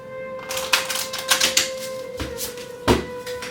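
Tarot cards are shuffled by hand in a series of crisp, papery riffling bursts and slaps, close and fairly loud, over a faint steady hum.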